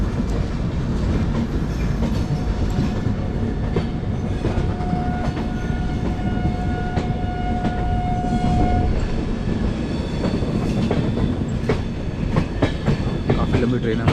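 A long passenger train, number 04652 from Amritsar to Delhi, rumbles steadily with rail clatter heard from close by, and its horn sounds for several seconds through the middle.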